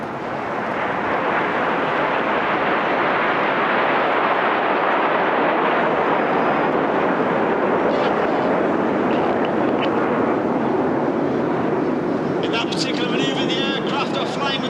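Red Arrows display jets roar past at the Clacton Airshow, a loud, continuous broadband engine rush filling the whole stretch with a commentator talking over it.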